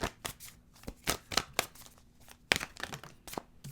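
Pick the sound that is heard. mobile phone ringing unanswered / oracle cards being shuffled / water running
oracle cards being shuffled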